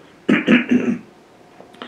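A man clears his throat with a few quick rough coughs in a row, close and loud, shown as an example during a Turkish lecture on Islamic jurisprudence; a brief faint vocal sound follows.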